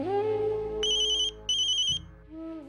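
A mobile phone ringtone plays, a clear electronic melody with bright high beeps in two short bursts over a sustained tone, loud and close with no talking.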